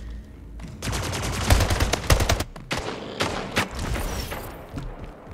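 Rapid gunfire from the Splitgate video game: dense, loud automatic bursts with sharp individual shots, pausing briefly between volleys, with no talking over it.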